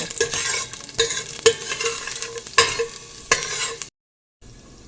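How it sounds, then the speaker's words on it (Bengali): Cashew nuts frying in hot ghee for a rice pulao, bursts of crackling sizzle with stirring scrapes, then a sudden drop to near silence before faint sizzling resumes. "ঘি গরম হচ্ছে, এরপরে দিয়ে দেব কাজু বাদাম। গোল্ডেন ব্রাউন করে হালকা ভাজবো।"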